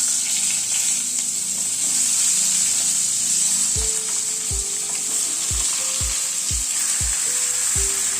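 Vegetables going one by one into hot oil tempered with five-spice, a loud continuous hiss with a run of distinct drops and thumps as pieces land, the sizzle holding steady throughout.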